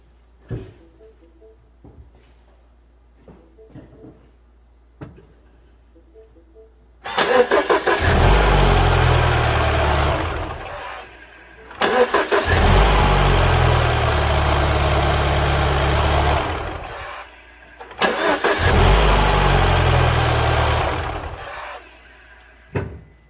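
A 2014 Mini Countryman R60 with an intermittent no-crank fault: faint clicks in near silence, then three separate runs of loud cranking that catch into a steady, rumbling idle, each cut off before the next.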